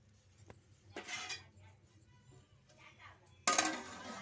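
A metal lid lands on a pot of chicken dum biryani layered with ghee, giving two short clanks, one softer near the start and a sharper, louder clatter toward the end, with quiet stretches between.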